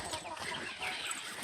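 Chickens cluck and call on a small village poultry farm in Kerala. The clucking is close and fairly steady across the short moment, with layered bird sounds over a busy outdoor background.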